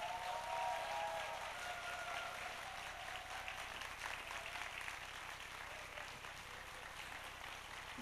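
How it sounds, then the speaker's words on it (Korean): Faint applause from a congregation at a church youth service, a soft, steady patter of clapping heard at a distance for several seconds, with no voices. "그리고 우리 기도 권사님들을 앞으로 모실 때 큰 박수 부탁드리도록 하겠습니다"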